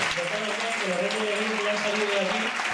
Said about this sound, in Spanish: Fuerte aplauso de nuevo para ellos.